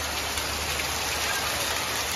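Hail and heavy rain fall in Coorg in the middle of a hot summer, a dense continuous roar of water drumming on surfaces and filling a drum, loud and unbroken.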